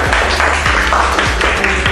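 An audience claps for a quiz team, with loud, fairly steady applause of overlapping hand claps lasting a couple of seconds and no voices over it.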